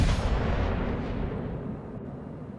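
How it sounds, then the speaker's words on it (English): Heavy battleship guns boom in a naval warfare video game as the Bismarck fires a salvo, a loud broadband blast that rolls into a long, slowly fading rumble with no talk. "Bismarck launches his guns."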